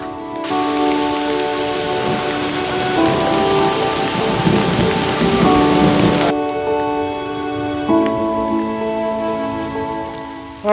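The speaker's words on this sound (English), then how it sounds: "we just got hit by one hell of a storm. I mean, it was raining sideways." Heavy rain pours down steadily during a thunderstorm on the Loyalsock Trail, with a rolling rumble of thunder building midway; the downpour stays loud and close throughout, over faint tonal background sounds.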